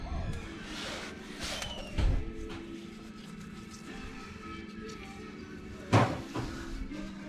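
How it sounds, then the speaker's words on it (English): A rubber mallet knocks at the water pump of a 1994 Honda Accord during a repair, giving two separate dull thuds several seconds apart over a steady low background hum. "So I just use a little rubber mallet to kind of give me some room."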